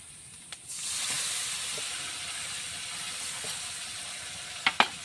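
Spice and tomato masala frying in a pan sizzles with a steady, even hiss, joined by a couple of sharp utensil taps near the end.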